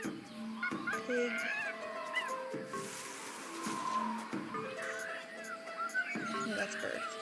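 Bird calls from the video game Tales of Monkey Island, short chirps and clucking cries recurring through a busy mix of game music and effects, with a voice talking now and then.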